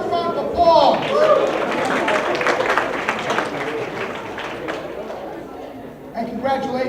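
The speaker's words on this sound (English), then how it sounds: "Give yourself a round of applause." Audience at a hypnotist's show in a psychology class clapping together, a dense round of applause rising and tapering off over several seconds, with a voice talking at the start and end.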